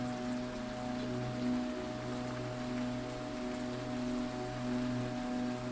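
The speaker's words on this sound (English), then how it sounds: "A soft, chilling drizzle had just begun to fall, tapping gently on the car roof." Light drizzle of rain tapping on a car roof at twilight, a steady soft patter with a low hum underneath, continuous and even throughout with no voices.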